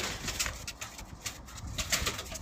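Teddy home-breed pigeons and their babies coo in soft, repeated low pulses, close by and fairly quiet, with irregular rhythm and no voices.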